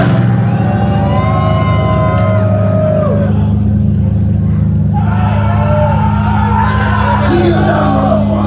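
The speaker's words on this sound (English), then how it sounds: "Let me hear you screaming" Concert crowd at a live punk show screaming and shouting together, a loud sustained roar of many voices over heavy low rumble, with raised yells rising above the noise throughout.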